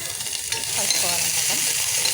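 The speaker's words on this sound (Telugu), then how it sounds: "ఆయిల్ వేడిన తర్వాత వేసుకోవాలి. వేసేసి" Food hits hot oil in a home kitchen pan and settles into a steady, soft sizzle with a few stirring scrapes, fairly quiet and close, with no talk over it.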